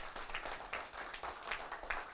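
Lecture audience clapping at a Korean university talk, a soft, scattered patter of hands with uneven bursts, moderately distant and fairly quiet, with no talking over it.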